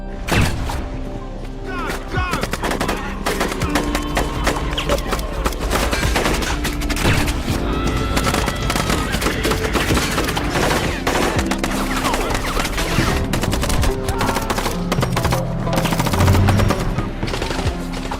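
Heavy gunfire in an action-film battle against terrorists, with sustained machine-gun bursts and scattered shots rattling almost continuously for the whole stretch, loud and dense, with thuds mixed in.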